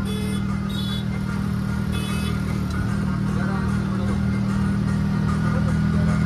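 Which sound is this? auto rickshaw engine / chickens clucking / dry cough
auto rickshaw engine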